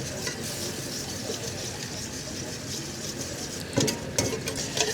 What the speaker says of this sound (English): So keep whisking, keep adding your butter.